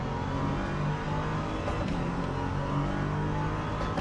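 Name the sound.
LMP2 race cars passing in Le Mans Ultimate video game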